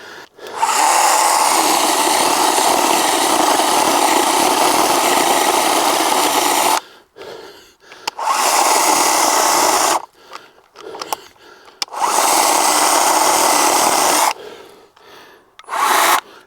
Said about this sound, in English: I really like the speed of the chainsaw because it is so relaxing to use.